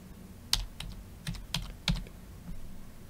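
Fingers tap out a few scattered keystrokes on a computer keyboard, close and fairly quiet clicks in irregular rhythm with short gaps, no talk.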